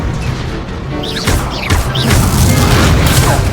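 Confringo blasting-spell explosions from the Hogwarts Legacy video game, a run of loud booming bursts and crashes layered over dense game noise, with no pause in the clatter.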